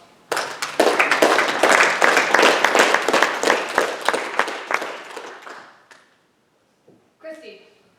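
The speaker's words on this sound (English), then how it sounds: "Can you join me in a round of applause?" An audience at an election event applauds for about five seconds in dense, close clapping that tapers off, followed by a brief moment of talk.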